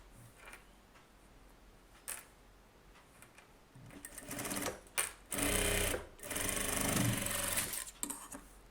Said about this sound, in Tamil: இப்போ வந்து ஃப்ரண்ட்டு கிராஸ் பீஸ் தைக்க போகிறோம்.